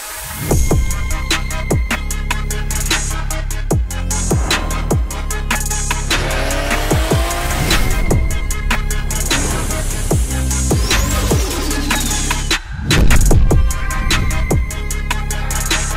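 A 955 bhp Nissan R33 GTR with a sequential gearbox roars loud and close, revving hard with rapid repeated bangs and crackles, then a brief cut and a fresh surge of engine noise.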